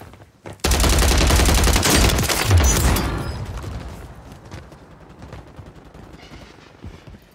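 Video game gunfire rips out as a loud, close burst of rapid automatic shots lasting a couple of seconds, then tails off into quieter scattered echoes and background noise.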